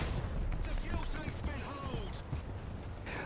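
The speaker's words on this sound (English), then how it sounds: "Almost hit by that artillery." Artillery shells land near a tank in War Thunder, a dense, rumbling burst of close explosions and gunfire over a few seconds, with some voice underneath.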